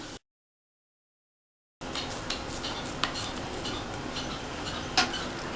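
Spoon scraping and clinking against a pan while stirring chana dal filling with ghee for sweet poli, a run of light metallic taps over low steady background noise after a short silent gap.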